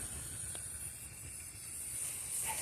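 Fire gives a continuous, snake-like hiss with a bright, airy steam tone, low and steady, with a faint crackle or two and no talk.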